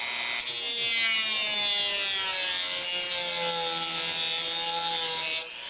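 A chamfer on a spiral pierced maple tea light or vase is sanded on a woodturning lathe, giving a steady, close rubbing hiss with whining tones that drift throughout, and no talk over it.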